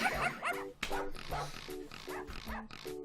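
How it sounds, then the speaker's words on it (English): A cartoon dog barks and yips in a repeated series of short bow-wows at a steady rhythm, with voices talking over and around it. "That certainly was a dog."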